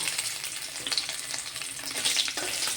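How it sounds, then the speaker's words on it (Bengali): Paisa fish fry in a pan with a soft, steady sizzle and faint crackles, heard fairly quietly with no talking. "এদিকে মাছটাকে ভাজতে দিয়েছি"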